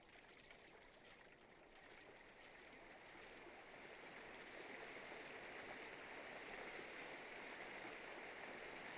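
A waterfall in Lord of the Rings Online roars as a continuous, even wash of rushing water, fairly quiet and gradually swelling a little, with no voices.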